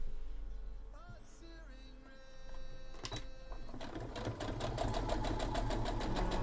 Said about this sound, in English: I can sew lycra a lot faster than I can sew this.